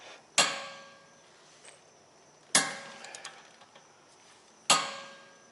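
Three sharp metallic clicks spaced about two seconds apart ring out as a ratchet wrench turns a rear upper control arm suspension bolt on a 2006 Chevy Malibu, with faint small rattles between them.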